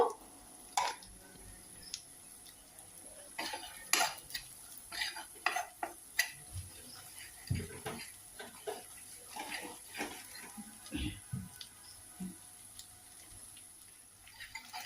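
Banana flower is fried and stirred in a pan without spices. A spoon scrapes and clinks against the pan in repeated soft strokes over a faint sizzle, fairly quiet, with no voices.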